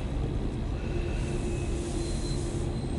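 A CSX local freight train rolling past with a continuous heavy rumble and faint metallic wheel squeal, steady and fairly loud throughout with no break.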